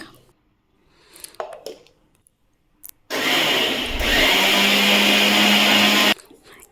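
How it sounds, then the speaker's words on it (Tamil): A kitchen mixer grinder whirs loudly for about three seconds, blending karpooravalli leaves with coffee powder and water into a paste, after some quiet handling noises and a short voice. "இது எல்லாத்தையுமே வந்து ஒரு டம்ளர் தண்ணி ஊற்றி நல்லா நைஸாக அரைச்சி எடுத்துக்கோங்க"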